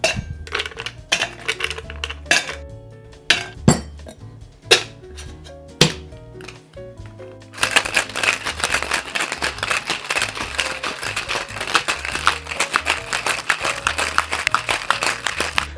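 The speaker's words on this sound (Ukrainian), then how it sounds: "Тепер додаємо лід і шейкуємо." Ice goes into a cocktail shaker for a gin-based Casino cocktail: scattered clinks and clatter of cubes dropping in, then a dense, continuous rhythmic rattle as the shaker is shaken vigorously, close and loud.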